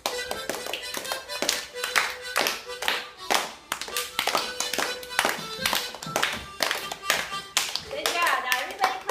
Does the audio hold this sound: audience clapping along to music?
yes